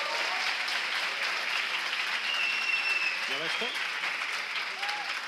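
Studio audience applause at a Spanish-language talk event, a steady, dense clapping wash throughout, with a brief spoken question from a man heard over it.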